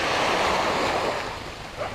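Sea waves wash onto Jomtien Beach on a sunny afternoon, a close, rushing surf with wind across the microphone that swells, then eases off slightly near the end.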